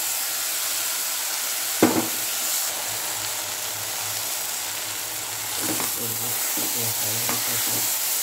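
Masala spices fry in a pan for a raw black-eyed pea curry, a steady close sizzle with occasional stirring scrapes and clinks, no talking.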